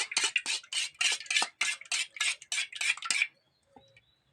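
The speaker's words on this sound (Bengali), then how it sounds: "এই পাত্রের মধ্যে আমি দুটো ডিম ফাটিয়ে নেবো এই ডিমটাকে আগে ভালো করে ঘেটে নেব" Two eggs beaten briskly in a bowl for chicken leg lollipops, a fast steady run of close metallic clinks and scrapes for about three seconds before stopping.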